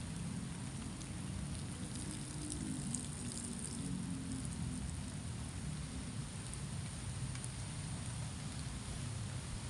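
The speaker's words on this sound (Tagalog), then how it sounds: "Kung lumalakas ang ulan tol, ambon na tol, yung ambon." Steady, even hiss of light rain falling, a soft continuous patter with low rumbling noise beneath, no voices.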